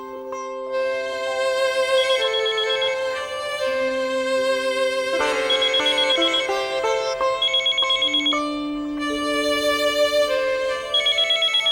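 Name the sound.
telephone ringing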